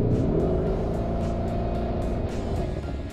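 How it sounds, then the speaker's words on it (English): A 2019 Lamborghini Urus in Corsa mode gives a steady, loud engine drone with a deep rumble that holds evenly for a few seconds, with no voices over it. "When you pop it into Corsa, you start to get that Lamborghini sound."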